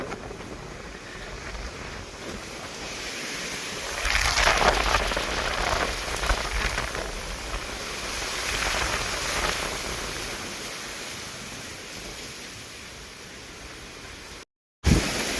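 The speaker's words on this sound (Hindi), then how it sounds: "देख सकते हैं कितनी तेज हवा आ रही है" Strong wind roars steadily outdoors, swelling into heavier gusts partway through, with a rain-like hiss throughout and no voices.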